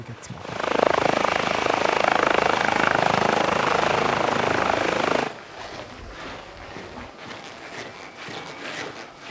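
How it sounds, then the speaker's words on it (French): A loud military helicopter rotor and engine roar at Alpnach air base fills the first five seconds, then drops away abruptly to a quieter rumbling background. "il faut amener l'hélicoptère exactement au-dessus d'un point"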